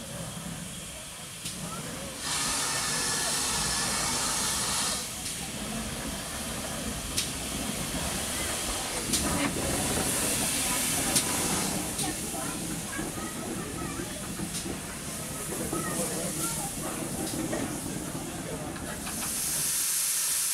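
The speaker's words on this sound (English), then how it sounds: "this is Totnes station now, with the lovely London Transport pannier arriving" A London Transport pannier tank steam locomotive arrives bunker first at a curved platform at Totnes station on the South Devon Railway, giving off a steady loud hiss of steam that carries on throughout, with some rumble underneath.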